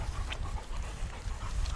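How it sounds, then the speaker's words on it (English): Dogs on a windy beach walk pant faintly in quick, breathy puffs beneath a steady low rush of wind. "take the dogs for a walk"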